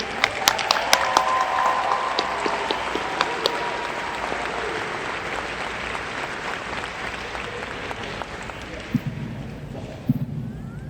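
Graduation audience at a high school commencement clapping for the graduating class, sustained applause in a large space with sharp individual claps and cheers, fading toward the end under a voice.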